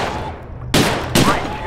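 Two loud, sharp gunshots ring out close together in the PSVR2 VR shooting game Gun Club Reloaded, each a hard crack with a short echoing tail over a low steady background hum.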